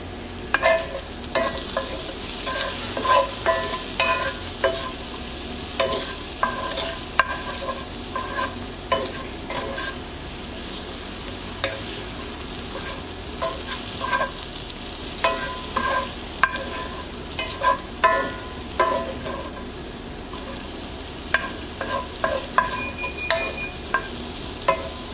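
Vegetables for a veggie lasagna, including cremini mushrooms, being stirred in a hot pan, with a steady sizzle under frequent close scrapes and taps of a utensil against the pan, continuous and without talk.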